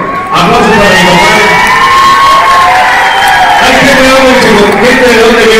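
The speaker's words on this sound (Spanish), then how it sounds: "Aplausos para mi papá" A loud crowd at an eighth-anniversary party cheers, whistles and claps without a break, with shouts and whoops rising over the steady roar.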